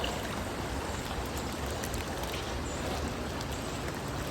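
Rushing water of a flooded creek, normally about 4 feet wide, flows loudly and steadily, a dense broadband roar of a swollen creek with no pauses, close by and alone.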